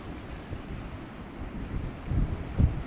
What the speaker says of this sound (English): this wind is horrendous